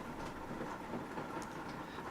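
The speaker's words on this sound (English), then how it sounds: "we have a lovely rain going. You might hear it." Steady rain falls outside as a soft, continuous broadband hiss, faint and unbroken, with no voices over it.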